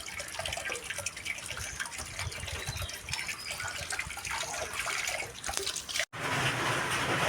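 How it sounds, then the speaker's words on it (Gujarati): Heavy rain and running water close by, a dense continuous splashing rush that cuts out for a moment before resuming. "જુઓ મિત્રો, આજે વરસાદ બરાબરનો જામ્યો હોય અહીંયા."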